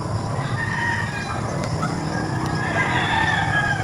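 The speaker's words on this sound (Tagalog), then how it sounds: "2 roaster at 4 po na inahin. Rhode Islands." Rhode Island Red chickens, two roosters and four hens, crowing and clucking steadily in a small fenced pen, with a rooster's crow rising over continuous nearby hen clucks and background hum.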